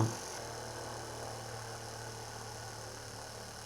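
An electric toothbrush buzzes against a screw in a steady, close mechanical hum that holds constant after a brief louder onset, with no talk over it.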